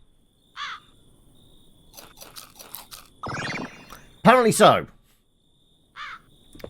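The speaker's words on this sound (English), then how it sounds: "Do crows like chips?" Crows caw in a cooking video game, with short crunching bursts like chips being eaten and a brief spoken comment; the calls are clear and close against a quiet background.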